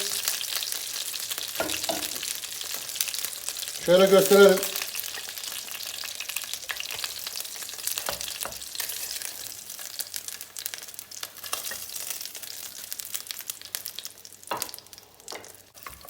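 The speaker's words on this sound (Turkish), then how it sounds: "Sadece ve sadece 2 dakika tavuğun derli tarafını kızartmak için" Steady sizzling of chicken frying skin-side down in oil in a pot, for chicken pilaf, with a louder burst of crackling and stirring partway through and a few short spoken words.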